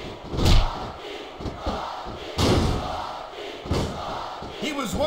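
Crowd noise from a WWE SmackDown! vs. Raw 2006 wrestling match in a video game arena, a steady roar with loud swells and dull thuds from the ring, with faint commentary voices mixed in.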